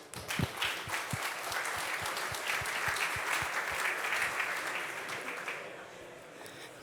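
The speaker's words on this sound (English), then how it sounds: "A warm round of applause." Audience at a conference talk on multimodal AI applauds warmly for a few seconds, dense clapping throughout that thins and fades toward the end.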